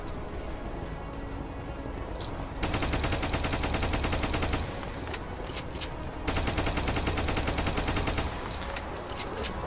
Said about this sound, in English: This Tommy fires 700 freedoms per minute.